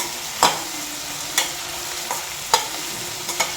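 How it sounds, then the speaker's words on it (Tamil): Onions and four chopped green chilies sauté in ghee for ghee rice, a steady close sizzle punctuated by about five sharp spatula knocks against the pan at uneven intervals. "அது கூட நம்ம வெட்டி வச்சுருக்கிற அந்த 4 பச்சை மிளகாவையும் ஆட் பண்ணிக்கலாம். அதையும் நல்லா வதக்கிக்கலாம்."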